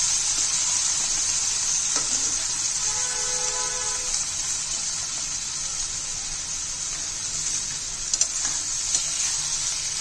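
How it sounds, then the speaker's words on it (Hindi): Semolina is roasted in a pan for upma, giving a steady soft hiss with light stirring and a few faint clinks, with no voices. "अब इसको अच्छी तरीके से भूनेंगे।"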